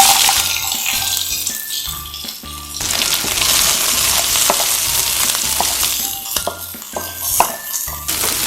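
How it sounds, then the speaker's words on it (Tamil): Mustard seeds and a little cumin crackle and splutter in hot oil in a home kitchen pan. The dense, steady frying sizzle runs throughout, with faint tonal background sounds near the start and end. "கடுகு பொரியிற சத்தம் கேட்குது"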